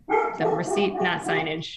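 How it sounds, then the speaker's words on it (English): A dog barks and yips repeatedly in the background during a city council meeting, its calls overlapping continuous close speech from a meeting participant. "Sorry about the dog."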